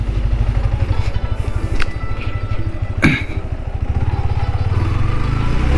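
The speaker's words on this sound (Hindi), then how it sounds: "तो दोस्तों, मैं अपनी बाइक पे बैठ चुका हूँ" Motorcycle engine running steady while the rider sits on the bike, a close, continuous low throbbing rumble with a few brief clatters, no talk.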